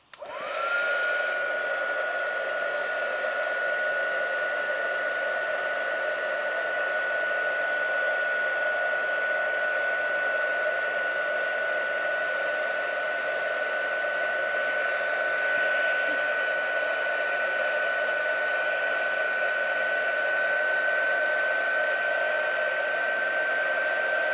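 Heat tool heat-setting Starpower ink on craft card: a steady, loud, continuous blower whine that starts abruptly and holds an even pitch for the whole stretch, with no talk.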